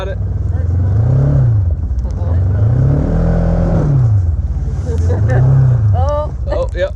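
A car engine revs repeatedly while the wheels spin in deep snow during a record snowstorm, rising and falling in loud surges. People talk and exclaim over the engine.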